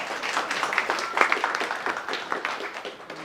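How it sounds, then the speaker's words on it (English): A meetup audience in Berlin claps for a speaker. The crackle of individual hand claps is moderately loud, swelling slightly in the middle before thinning out toward the end. "So a round of applause for Martin, please."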